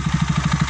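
A motorcycle engine idles close by with the breather open, its low, steady pulsing throb carrying a light mechanical clatter over the short stretch.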